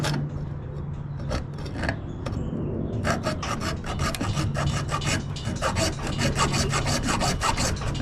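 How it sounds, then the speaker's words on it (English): A hacksaw blade cuts a part out with a steady, close rasping stroke that starts slow and settles into a quicker, even back-and-forth rhythm of gritty scrapes. "We're going to take a hacksaw blade."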